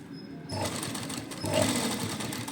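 A sewing machine runs in a steady close whir, stitching piping along the neckline of an embellished suit, starting after a brief pause and continuing without talk.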